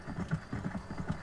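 Horse hooves clip-clopping at a walk in the video game Red Dead Redemption, a quick run of muffled low thuds in an uneven rhythm over about a second, with no voices.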